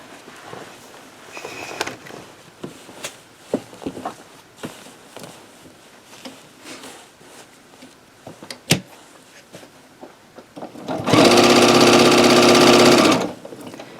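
A sewing machine stitching a minky quilt runs loudly and steadily for about two seconds near the end, after a stretch of quiet handling, clicks and small knocks.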